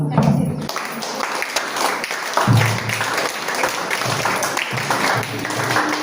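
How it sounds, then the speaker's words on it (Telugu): An audience at a morning church session claps together in several bursts, the applause rising and falling, with a speaker's voice heard between and over the clapping. "చప్పట్లు కొట్టడం నేర్చుకుందాం ముందు."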